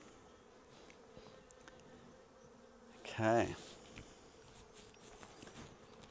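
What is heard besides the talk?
honey bees buzzing around open hive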